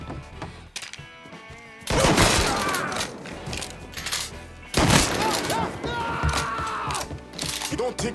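Gunfire in Mafia 3, two loud heavy bursts of shots amid mechanical clatter and shouting voices, with quieter gaps between the volleys.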